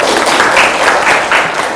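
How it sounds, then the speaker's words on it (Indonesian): A classroom of students claps together in a short, brisk burst of applause, close and fairly loud, with slight swells in intensity. "Kita beri tepuk tangan untuk semuanya."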